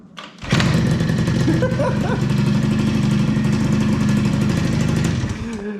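A 50cc scooter engine idles steadily and loudly after being kick-started, a continuous buzzing drone that holds for several seconds before easing off slightly near the end.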